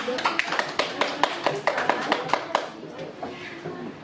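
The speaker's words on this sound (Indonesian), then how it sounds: "Tepuk tangan dulu teman-teman" Classmates clap their hands during a group presentation in a classroom, a run of sharp, fairly evenly spaced claps near the microphone for about three seconds, then thinning out, with faint talk in the room.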